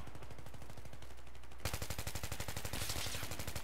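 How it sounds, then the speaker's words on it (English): Rapid automatic gunfire laying down covering fire in the video game Battlefield 3, a loud, continuous stream of evenly spaced shots that gets louder and harsher partway through and keeps going to the end. "Just laying down some covering fire."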